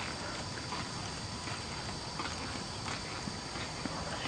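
Hooves of a horse thud on turf during pole bending and jumping, a faint, quick run of soft clip-clop beats under a steady background hiss.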